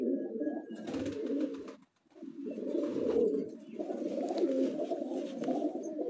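Pigeons coo steadily in low, throaty murmurs, several birds overlapping almost continuously with one brief pause, close by.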